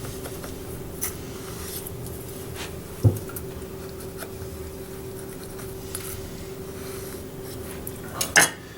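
A knife cuts down through pears on a cutting board, giving a few sharp taps and a firm thunk near the three-second mark and again near the end, over a quiet steady kitchen background with no talk.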